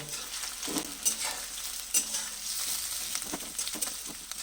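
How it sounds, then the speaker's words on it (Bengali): Onions frying in a cooking pan with a steady, close sizzle and scattered bursts of stirring scrapes, no voices. "এখন পেঁয়াজটাকে ভালো করে ভেজে নেব।"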